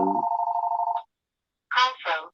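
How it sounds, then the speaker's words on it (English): Telephone ringing, a sustained electronic ring that cuts off after about a second, followed by a pause and then someone speaking briefly, close and clear. "And this damn phone is driving me nuts."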